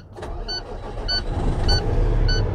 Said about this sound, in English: Сейчас заведем двигатель, нам нужно, чтобы давление с 50 до 90 набралось за меньше чем 3 минуты при 1200 оборот